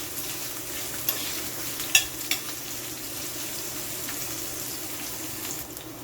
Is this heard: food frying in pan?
yes